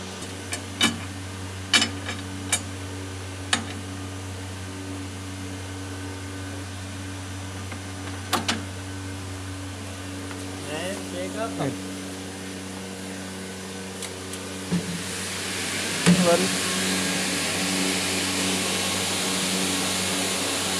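A fabric-making machine runs with a steady low mechanical hum and whine, punctuated by sharp periodic clacks and ticks, then a louder broadband rush of motion near the end, close and without voices.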